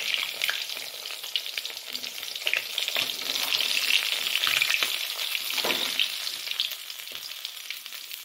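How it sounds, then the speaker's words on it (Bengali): Katla fish frying in hot oil gives a loud, steady crackling sizzle with bright spattering pops that continues without break for the whole stretch, close up and with no voices. "আমাদের মাছ ভাজা হয়ে গেছে"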